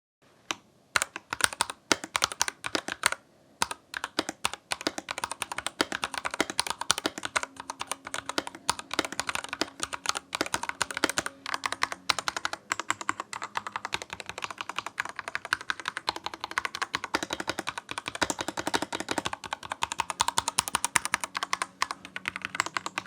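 Steady typing on a Royal Kludge RK84 mechanical keyboard, with soft, close clacks in a quick, uneven stream of keystrokes that carries on throughout with no voices.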